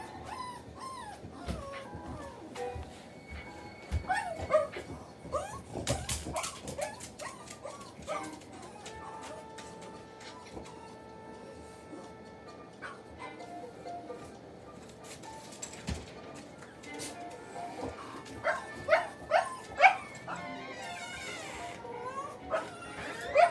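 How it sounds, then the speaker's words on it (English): A pet dog barks, yips and whimpers intermittently in a room during Zelda Breath of the Wild gameplay, fairly faint and scattered among game sounds and someone talking. "I'm sorry, everyone, my dog is being..."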